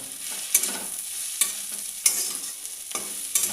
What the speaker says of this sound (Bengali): এবারে একটু ভেজে তারপরে এটাকে পেস্ট করব